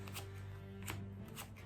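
A deck of trading cards being shuffled and cut by hand, with quick riffling bursts and soft card slaps close up over a low background hum.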